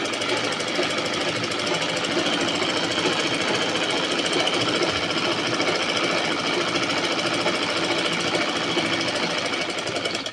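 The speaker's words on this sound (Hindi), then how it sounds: "और इसी तरह आप दूसरी सिलाई इस पर लगा लेंगे।" A sewing machine runs steadily and loudly while stitching a seam on a suit, its fast mechanical chatter continuing without pause for the whole stretch with no talk.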